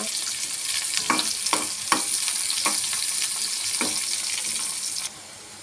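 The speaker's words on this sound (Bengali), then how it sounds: "প্রথমে দিয়ে দিলাম পেঁয়াজ আর রসুন, একটু দাগ করে নিব।" Chopped onion and garlic frying in a pan for an okra fry, a steady loud sizzle with repeated scraping stirs that cuts off abruptly near the end.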